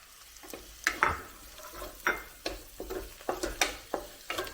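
Scrambled egg with tomatoes stirred in a frying pan, a spatula scraping and tapping in repeated uneven strokes over a soft sizzle, close and clear with no talk.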